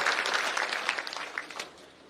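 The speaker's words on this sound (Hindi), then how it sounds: "जोरदार ताली से पूरे युवा मोर्चा से मैं आग्रह करूंगा कि अभिनंदन करें।" A youth wing audience claps loudly in dense, continuous applause welcoming the Chief Minister at an installation ceremony, fading toward the end.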